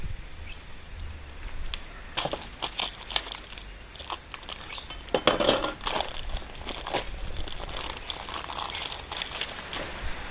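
Plastic packaging around ALDI pork ribs is sliced and torn open, giving a run of crinkling, crunchy snaps and rustles at close range, with louder bursts partway through and no talking.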